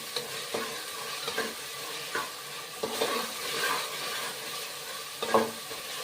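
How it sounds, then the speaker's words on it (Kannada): Mint leaves frying in oil for mutton biryani, stirred by hand: a steady, close sizzle runs throughout, punctuated every second or so by soft scraping and clinking strokes of the spoon against the pan. "ಈಗ ಚೆನ್ನಾಗಿ ಮಿಕ್ಸ್ ಮಾಡಿ ಪುದೀನ ಎಣ್ಣೆಯಲ್ಲಿ ಫ್ರೈ ಆಗಬೇಕು."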